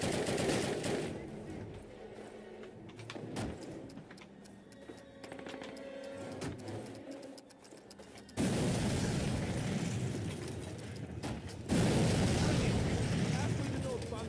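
Call of Duty battle sounds roll on without pause: gunfire and booming blasts in a dense mix, with a sudden louder surge of explosion noise near the end, no clear voices.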